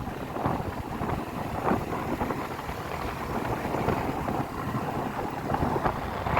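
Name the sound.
wind blowing into microphone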